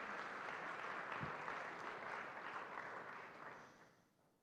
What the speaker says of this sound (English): Please join me in applauding their great job.